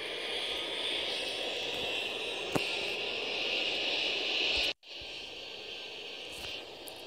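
An airplane in the Airport Madness airport-control game comes in to land at London City, a steady broad engine roar that holds throughout, with one brief dropout near the end.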